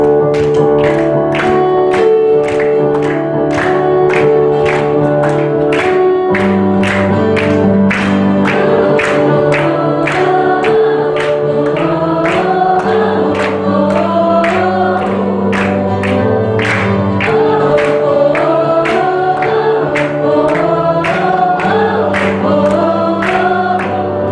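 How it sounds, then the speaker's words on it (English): A worship congregation claps in steady rhythmic unison over loud live music with a driving beat, the clapping blending into the band throughout. "let's clap our hands and let's dance"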